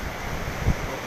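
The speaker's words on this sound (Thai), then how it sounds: "ลมด้วยนะครับ" Strong wind and surf on the coast during Storm Pabuk, a steady broadband roar of gusting wind buffeting the microphone over crashing waves, with a brief low thump near the end.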